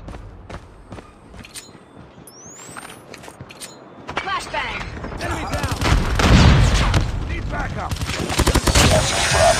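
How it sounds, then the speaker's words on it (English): Gunfire and a flashbang blast in a COD Mobile multiplayer match: scattered shots at first, then heavier bursts and dense automatic fire build to a loud, crowded barrage, with radio-style voice callouts mixed in. "Flashbang!"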